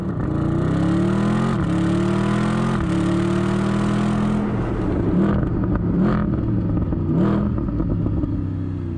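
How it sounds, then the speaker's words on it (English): Mercedes-AMG SLS Black Series V8 exhaust, a loud, deep, rising engine note under acceleration with gear changes, then settling into lower revving and crackling blips. "Why don't we listen to the exhaust note right now?"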